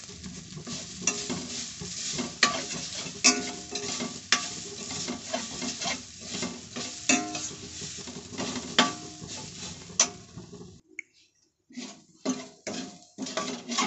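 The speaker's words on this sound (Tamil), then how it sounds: "நம்ம இந்த தேங்காயை நல்லா பொன்னிறமாக வறுத்துக்க போகிறோம்." Coconut dry-roasting in a pan until golden for coconut burfi, with a spoon scraping and stirring steadily against the metal over a soft sizzle; the stirring pauses briefly near the end, then resumes as a few separate scrapes.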